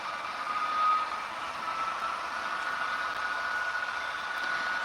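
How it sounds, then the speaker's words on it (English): Union Pacific diesel locomotives on the Evanston Subdivision with prime movers settling to idle as dynamic brakes engage: a steady, loud mechanical drone with a sustained whining tone running throughout, no speech. "you'll hear the prime movers go to idle and then the dynamic brakes come on"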